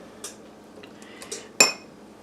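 A spoon or fork clinks against a dish of chocolate chips and butter in a home kitchen, a few light scattered taps ending in one sharper ring, with no talking.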